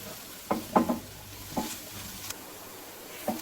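Onions browning with ten cashews in a pan on the stove, heard as a few scattered stirring scrapes and soft sizzle bursts against a quiet background.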